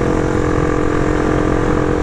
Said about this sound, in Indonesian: Ngeri anjir, ngelotok coy motornya.